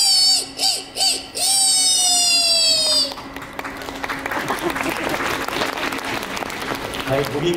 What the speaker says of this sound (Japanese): ゴミみたいな拍手が出ますけ ど